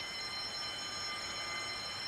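A house alarm going off, a continuous steady electronic tone held without a break for the whole stretch, with no talking.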